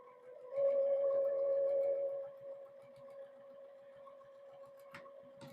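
A sewing machine back stitches a fabric gift bag at a quarter-inch seam, a steady close mechanical whir for about a second and a half that then eases off, with a few faint clicks afterward.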